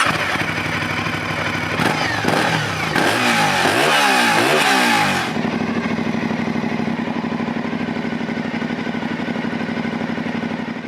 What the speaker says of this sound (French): Donc là, je vais démarrer la moto.